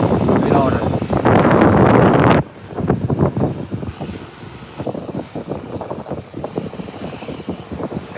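Beechcraft 1900 turboprop passing at Howard Hamilton International Airport: a loud roaring rush fills the opening seconds, then cuts off into quieter broadband rumble and wind while someone talks over it.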